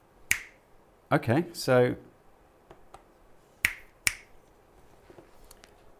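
Sharp finger snaps fired to test the clap switch in an LED kit, one early and two more later, each crisp and close, with someone briefly talking between them.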